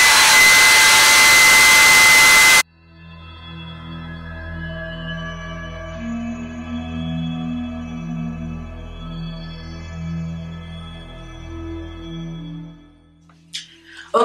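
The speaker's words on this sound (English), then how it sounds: "Now to let this step move very fast, we're gonna use a blow dryer." A hand-held blow dryer on its cool setting roars loud and broadband for a couple of seconds, then cuts out, leaving a quieter steady hum with no talking.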